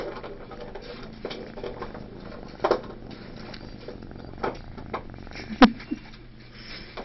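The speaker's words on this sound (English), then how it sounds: "the second you touch him, he starts purring" A cat purrs softly and steadily up close as it is being petted, with a few light taps and handling noises on top and no talk.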